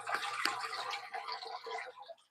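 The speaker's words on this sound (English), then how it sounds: "ASMR water sounds." Water from an aquarium water change sloshes and trickles close by for about two seconds, with a sharp splash near the start before it fades out.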